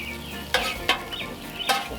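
Shrimp and okra with cayenne and smoked paprika tossed on a Cuisinart 360 flat top griddle, a soft steady sizzle broken by three sharp scraping clatters of the spatula.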